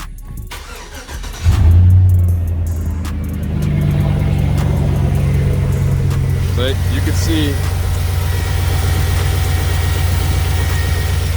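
A Chevrolet Silverado truck, not yet at operating temperature, cranks and catches with a loud surge, then settles into a steady, rumbling idle close by while someone talks briefly over it.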